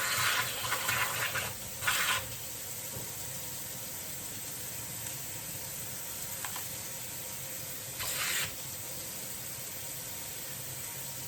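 Running water hisses steadily and close by as freshly harvested homegrown vegetables are rinsed under it, with a few brief louder splashing surges near the start and again later.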